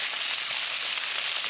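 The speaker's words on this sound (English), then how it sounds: "So now we're going to deep fry." Steady, dense sizzling crackle of chicken strips deep frying in hot oil in a fryer basket, continuous and fairly loud with no pauses or voices.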